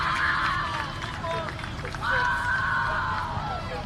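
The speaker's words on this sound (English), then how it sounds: "you can hear maybe some family, friends in the stands cheering for Elise" Family and friends in the stands cheer and shout at a girls' state high school soccer quarterfinal, Norwalk versus Lewis Central, as a wash of crowd noise with rising voices over steady background hubbub.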